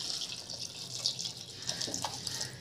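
Water is poured into a cooking pan holding raw banana pieces with turmeric and salt, a steady soft trickle and splash running close by throughout, fairly faint, with no talking.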